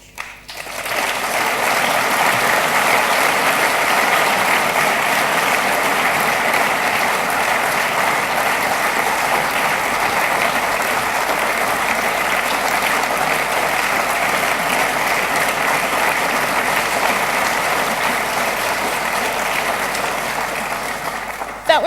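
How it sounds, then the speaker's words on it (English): Prolonged, steady applause from a large audience at the 2013 Ashden Awards ceremony, loud and unbroken for about twenty seconds with no talk over it. "Prolonged applause for the woman who has created the event"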